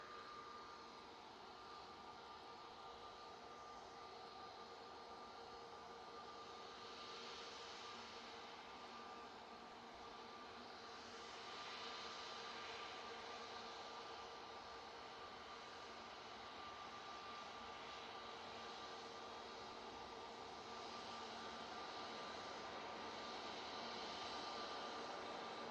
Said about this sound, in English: And then we can get that prop arriving from Belfast.